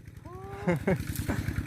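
A Ford farm tractor engine chugs with a steady low pulsing rumble in a cassava field, close by, while someone talks over it.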